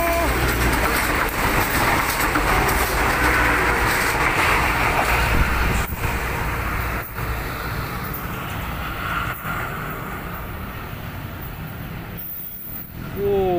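Passenger train Wijayakusuma passing the Pagerwojo shelter on its way toward Surabaya, arriving from the south; a loud, steady rumble of wheels and cars fills the whole stretch, with faint metallic squeals and some distant road noise.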